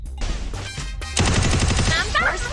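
Gunfire in a mobile shooting game starts in short separate bursts, then breaks into a louder rapid string of shots, with game effects and some voice sounds mixed in.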